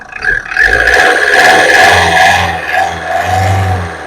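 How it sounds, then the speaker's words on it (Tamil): A Tata Indica V2 car engine runs close by at a steady idle, its hum rising and falling slightly, with a faint clatter near the start. "பாருங்க ஸ்மூத்தாக இருக்குது இன்ஜினு"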